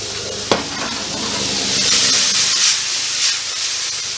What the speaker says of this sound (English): No salt, just straight up onions in a cold pan, a little oil.